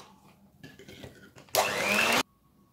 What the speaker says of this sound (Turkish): Eklemiş olduğum yumurtaları da bu karışımla birlikte 2-3 dakika boyunca yüksek devirde çırpıyoruz.